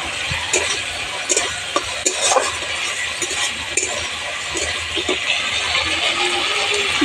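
Prawns fry in a pan with browned onion, cumin, ginger and garlic, giving a steady close crackling sizzle broken by occasional metallic clinks and stirring scrapes.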